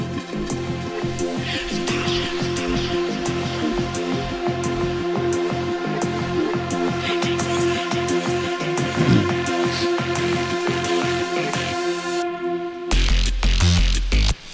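Drum and bass track with short vocal phrases drenched in heavy echo over a steady, loud beat of punchy kicks and crisp hi-hats, then a brief drop and a heavier section near the end; no talking.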